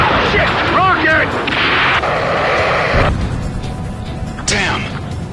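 A rocket blast in the Ace Combat 7 flight game played in VR, with heavy booming explosions and rumbling fire over a roaring jet, loud and dense, with voices on the radio under the chaos.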